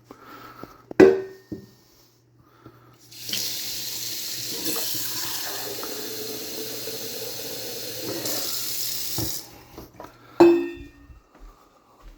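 Water runs steadily from a kitchen tap into a pot of vegetables for soup for several seconds, a broad hiss that starts abruptly and stops, with a few clinks before and after.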